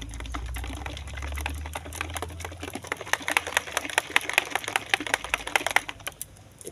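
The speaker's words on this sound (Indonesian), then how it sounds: "Kita aduk beberapa detik." Herbicide mixture being stirred by hand for a few seconds, a close, steady run of quick irregular scraping and tapping clicks, with a low rumble at the start.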